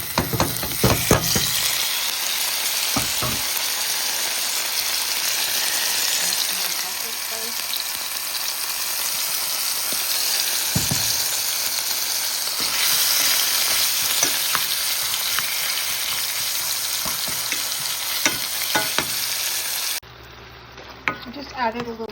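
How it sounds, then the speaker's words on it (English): Cut-up chicken pieces fry in a frying pan with a drop of oil, giving a steady, loud broadband sizzle with occasional crackles and stirring knocks; the sizzle drops sharply near the end. "Same frying pan I'm using to make the chicken."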